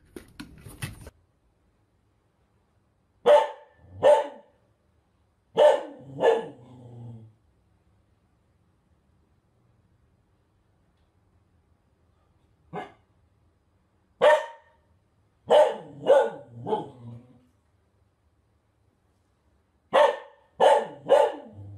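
A dog barks indoors in close, loud bursts: a quick volley, a pause, then further clusters of two to four barks separated by silent gaps.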